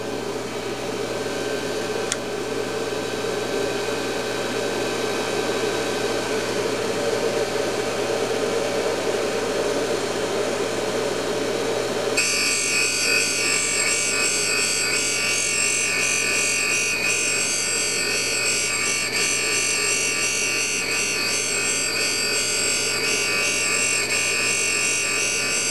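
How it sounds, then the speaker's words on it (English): Valve grinder with a V-block grinding a Subaru engine valve, a continuous motor whine and gritty abrasive hiss that shifts to a harsher, brighter grind partway through, with no voices. "Now we're going to go ahead and grind the valve."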